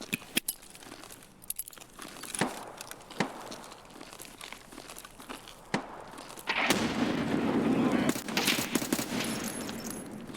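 Video game firefight with scattered gunshots and bursts of automatic fire from an MP7 and a SCAR, followed by a louder, sustained blast and roar after a thrown grenade goes off near the player.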